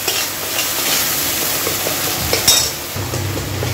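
Spice masala with yoghurt for a pomfret curry is stirred and fried in a pan, giving a steady close sizzle with scraping stirs and a few brief utensil clinks.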